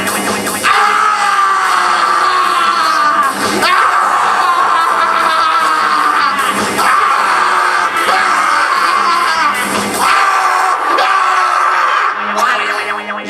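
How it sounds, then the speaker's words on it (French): An audience at a participatory performance at the Halle aux Grains lets loose, yelling, whooping and shouting together in loud sustained bursts that swell and dip over several seconds. "Là maintenant on se lâche, on crie un peu."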